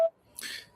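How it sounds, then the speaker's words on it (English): A single short electronic voicemail recording beep sounds at once, clear and brief, then gives way to a soft hiss of line noise. "At the tone, please record your message."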